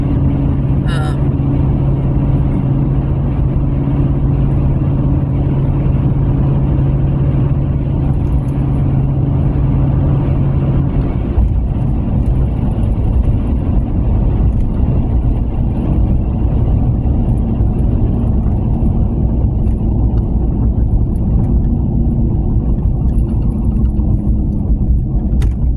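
A car driving, with a continuous, loud low engine and road rumble close by, steady throughout, a brief faint jangle near the start and a slight shift in tone around midway.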